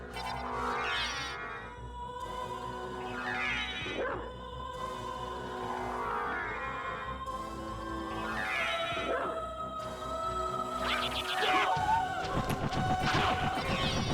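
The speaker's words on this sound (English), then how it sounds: "dog." Dog sounds in the Castlevania randomizer game: a sequence of whimpers and yelps rising and falling over game music, ending in a louder crash-like burst, with no voice.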